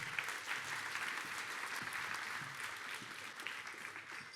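An audience at a university cup finals awards night gives a steady round of applause, a dense, continuous wash of clapping that holds evenly throughout without any voices.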